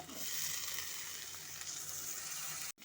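Banana stem cooking with ground spices and potatoes in a pan over medium heat, a soft continuous sizzle and hiss that cuts off abruptly near the end.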